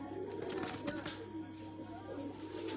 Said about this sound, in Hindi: ये मेन बड़ा कबूतर है